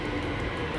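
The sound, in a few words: Delhi metro train arriving at the station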